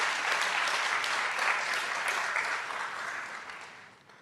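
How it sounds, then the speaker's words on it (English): Audience applause at a school board meeting, a steady dense clapping from a crowd that holds level for several seconds and then thins and fades toward the end. "Let's give her a big round of applause."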